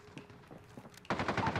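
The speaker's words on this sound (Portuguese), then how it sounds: "Olha isso, é um tiro" Gunfire in the Call of Duty Modern Warfare video game: a burst of rapid automatic shots starts partway through, loud and close, after a stretch of quieter clicks and low thuds.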